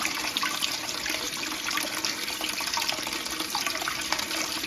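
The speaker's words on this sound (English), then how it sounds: "Flush it again" A household toilet is flushed during a repair, water rushing and swirling steadily at close range, a continuous hissing wash with no talk.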